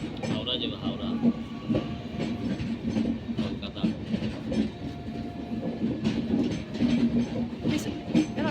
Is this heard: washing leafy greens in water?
no